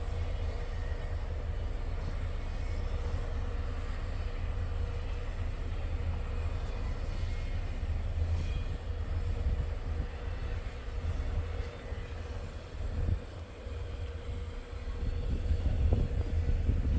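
A long freight train rolls past a former derailment site near Attica, a steady loud rumble and rail clatter that swells slightly toward the end as the cars keep coming.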